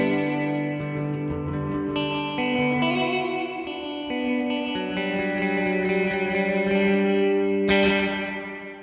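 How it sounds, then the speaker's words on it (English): Guitar chords ring through a Source Audio Artifakt Lo-Fi Elements pedal's µVerb reverb, a delay-plus-diffusion effect giving dark, spring-like washy tails; several sustained chords bloom and decay with lingering echoes, no talking. "This is a reverb effect that uses delay plus diffusion, similar to how they did it in 8-bit video games"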